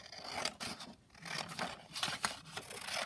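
Scissors slice through thick printed 160 GSM paper, cutting a sheet in half with a run of close, crisp snips and rasping strokes, no talk over them.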